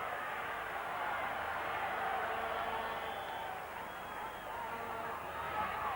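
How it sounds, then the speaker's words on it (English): Stadium crowd at a 1997 rugby league match between St George and Manly, a broad, steady roar of cheering that swells and holds for several seconds without letting up. "Again the crowd goes up."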